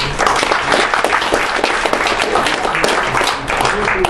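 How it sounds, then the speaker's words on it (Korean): Audience applause fills a forum hall, a dense, steady clapping from a crowd that stays loud and continuous throughout with no break. "협회 박수 한번 환영합시다"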